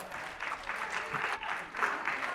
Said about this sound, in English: Give me a round of applause. Yes, a little round of applause.